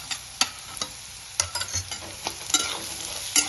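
Green chillies fry in a pan with potatoes for sabudana khichdi, giving a steady soft sizzle broken by sharp scraping stirs at irregular intervals, close and moderately loud with no talking.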